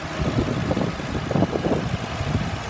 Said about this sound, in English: This one's been running for about 45 minutes, has not overheated, it idles smooth, revs up nice